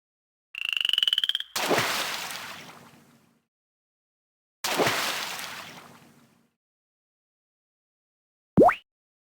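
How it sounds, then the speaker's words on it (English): Frog croaks from the I Did It Mum! Picture Book game on Nintendo DS: a short tonal chirp, then two separate rough, rasping croaks that fade out, and a quick swooping blip near the end, with silence between them. "To her surprise, it was a frog's voice."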